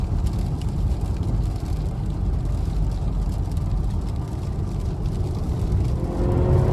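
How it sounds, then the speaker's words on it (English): A 2022 Kia Sorento X-Line AWD with a turbocharged engine accelerating, heard from inside as a steady low engine drone with road rumble, rising slightly toward the end, no talking. "Man, this turbocharged engine is amazing. Accelerates like it's nothing."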